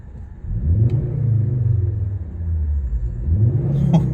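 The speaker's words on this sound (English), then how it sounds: "give it a quick rev and try and listen to that 5-cylinder engine" A 2010 Ford Kuga's turbocharged 2.5-litre five-cylinder engine revs up with a deep, steady rumble, close by, then climbs in pitch again near the end; no talking.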